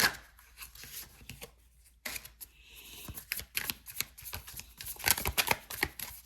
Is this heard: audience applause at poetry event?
no